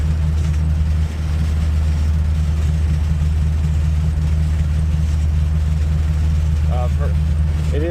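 A 1979 Toyota four-cylinder engine idles steadily with a low, even hum that holds through the whole stretch, with faint chirps near the end.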